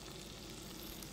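Potatoes and sweet potatoes frying in a small pan, a steady close sizzle with constant bubbling and crackle throughout, no voices.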